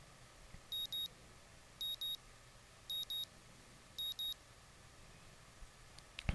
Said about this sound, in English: I wake to the annoying din of my alarm clock, its bright red numerals lighting up my face.